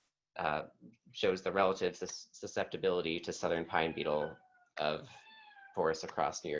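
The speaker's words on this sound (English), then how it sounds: "I'm sorry if you hear my cat meowing right now" A house cat meows in the background during an online workshop, a few faint tonal cries near the end under steady close speech from a presenter.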